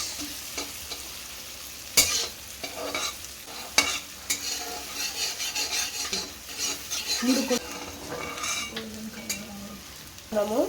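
Chopped onions are stirred in a hot pan for pav bhaji, with a spoon scraping and clanking in uneven bursts over a steady sizzle, a few sharp metallic knocks standing out close by.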